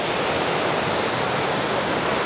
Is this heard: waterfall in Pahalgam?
yes